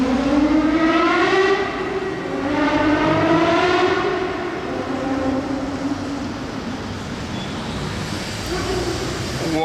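A Gordon Murray T50 supercar in Monaco screams past with a high, rising and falling engine wail that peaks twice, then fades into the distance over street ambience.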